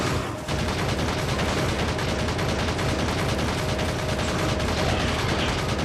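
Gun turret fire in the Factorio video game against attackers, a dense, continuous rattle of rapid shots that starts abruptly after a brief lull and holds at a steady, loud level throughout.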